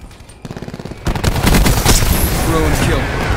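Close-in support gunfire from a gunship in a military video game: a quiet run of rhythmic shots builds into heavy, rapid bursts and booming volleys, loud and continuous, with radio voices talking in the background.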